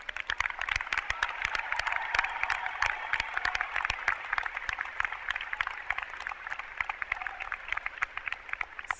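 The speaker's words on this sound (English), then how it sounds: "Round of applause to thank each of you in attendance, students about to graduate," A commencement audience at UC Hastings applauds steadily, a broad, even patter of many hands clapping at a moderate distance that continues without pause and without talk.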